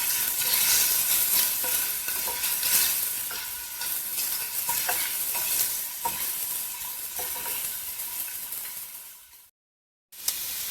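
Chopped onions cook down toward caramelization in a pan over moderate heat, giving a steady soft sizzle with spatula stirring scrapes. A short silent gap falls near the end before the frying resumes.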